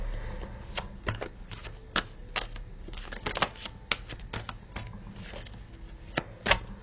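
Large playing cards from a game deck are handled and drawn, giving a quiet series of soft, irregular papery snaps and taps that are sharp but low in volume, with no talking.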